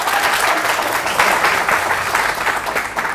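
Audience applause at a Kannada film event, with steady dense clapping that fills the whole stretch, loud and continuous with no speech over it.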